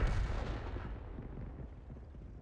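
A single heavy cannon blast from an SU-8 self-propelled gun in a tank video game, a loud booming report right at the start that rumbles and decays over the following two seconds.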